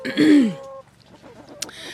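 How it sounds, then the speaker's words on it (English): A dominant white rooster and chickens: one loud, close crow-like call at the start, followed by quieter scattered clucks and small sounds from the flock, with a brief sharp noise near the end. "this white chicken, I don't know what he is, but he's a rooster, pretty dominant one at that"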